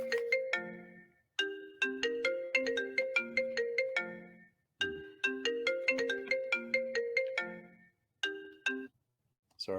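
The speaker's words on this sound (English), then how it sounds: "That's my phone ringing, and um, my daughter's trying to call." A mobile phone ringtone plays a bright repeating chime melody in bursts, several phrases separated by short pauses, loud and close with no talking over it.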